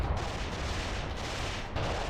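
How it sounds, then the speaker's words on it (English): Artillery shells landing in the war game Graviteam Tactics, a dense continuous rumble of distant blasts and gunfire with a few sharper impacts rising out of it. "Looks like we have some more shells falling over here."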